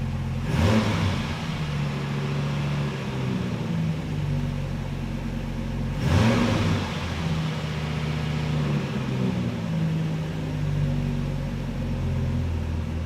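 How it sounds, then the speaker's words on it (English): A truck engine with a deep exhaust rumbles at idle, revs sharply twice about six seconds apart, and settles back to a steady low idle after each burst, heard close and loud. "Love the exhaust, much different sound than the 57."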